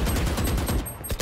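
Dense, rapid bursts of gunfire in the video game Valorant crackle continuously, loud and close, like a sustained exchange of shots.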